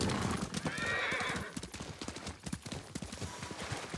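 A horse in the video game Ghost of Tsushima whinnies loudly near the start, then its hooves clip-clop in a quick, steady rhythm, close and clear.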